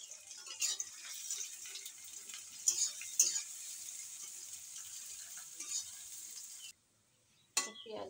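Chopped onions frying in white oil in a wok for chicken biryani, a steady close sizzle with scattered crackles and stirring clinks that cut off abruptly near the end before one last scrape.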